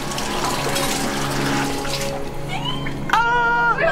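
Water rushes steadily from a tap in a rundown one-star motel room, a loud continuous hiss that ends in a brief squealing, tonal sputter.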